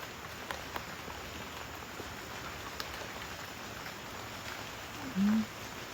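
A steady, soft patter of light rain falls evenly across a Costa Rican rainforest, with scattered drips and a brief low sound near the end.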